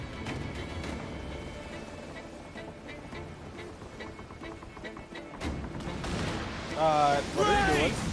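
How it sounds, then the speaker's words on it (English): Broadside cannon fire from sailing ships in Assassin's Creed Black Flag, a steady barrage of booming shots and impacts with swelling noise near the end, mixed with shouting voices and game music. "There's just so many cannons, it's insane."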